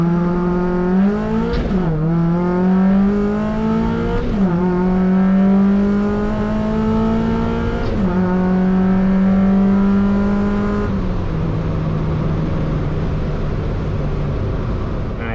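A nitrous-equipped Mazda Miata launches hard and accelerates, its engine note climbing through the gears with a brief drop at each upshift, loud and close, with no voices.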